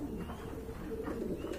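Pigeons coo steadily at a pigeon farm, low soft throaty calls overlapping close by with no gaps.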